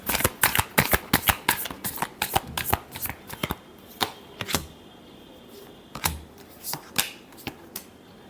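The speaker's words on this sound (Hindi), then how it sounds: "Last shuffle." A deck of tarot cards is shuffled by hand in quick, crisp riffling bursts, close and loud, with a brief pause before a few final shuffles.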